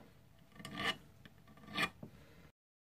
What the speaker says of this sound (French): on va limer encore le bout des frettes